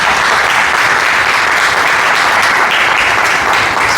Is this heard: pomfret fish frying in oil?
no